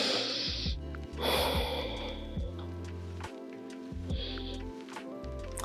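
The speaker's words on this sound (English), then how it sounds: "Taking a few deep breaths here." Slow, deep breaths during a gentle beginner yoga flow, with audible inhales and exhales close to the mic, soft nasal snort-like air and faint rustling between them.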